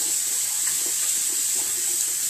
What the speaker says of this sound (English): I am going to turn on the water.